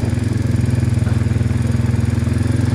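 A farm motorbike with a centrifugal clutch, towing a trailer, runs with a steady close engine drone and a fast, even pulsing beat throughout, with no talk over it.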